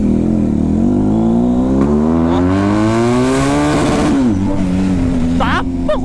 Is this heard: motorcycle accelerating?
yes